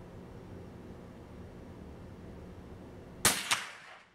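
A CBC 8122 rifle fired at a metal target 50 metres away: one sharp, loud shot breaks through steady outdoor hiss, followed a moment later by the fainter ring of the distant steel being hit.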